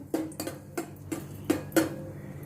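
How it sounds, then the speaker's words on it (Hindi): Raisins roasting in a pan for a pulao, heard as about six light clinks and taps of a spoon against the pan, spaced unevenly and close, with no talk. "इसमें अभी मैं थोड़ी ये किशमिश डालती हूँ, उसको भी अभी मैं थोड़ा रोस्ट करती हूँ"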